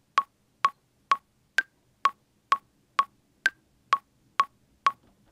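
A steady electronic click beat at 128 BPM from Ableton Live, with eleven crisp, evenly spaced ticks and an occasional accented one, clean and alone with no other sound.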